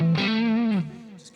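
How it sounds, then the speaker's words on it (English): An electric guitar played through a distortion effect on a Line 6 Helix LT rings out as one sustained, buzzy note that fades after about a second. "just get that distortion pedal off there."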